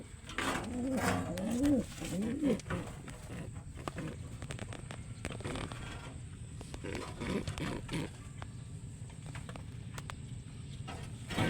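Taiwan birds kept near their eggs give a few soft warbling coos early on, followed by scattered low rustles and thumps in a quiet enclosure.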